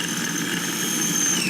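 A kitchen food processor motor runs at a steady pitch, giving a loud, continuous whirring drone with a high whine on top. No one speaks over it.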